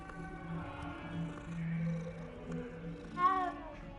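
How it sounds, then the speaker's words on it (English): A half orange, half black cat in the Hogwarts Legacy video game gives a short rising meow near the end, over low purring and ambient game sound. "Oh, there's a cat."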